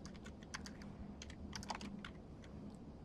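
Rapid keyboard typing of a command in Rhino 3D modelling software: a steady run of close, crisp keystrokes over a quiet room hum, with no one talking.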